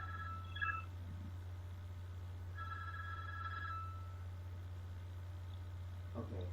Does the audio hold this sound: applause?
no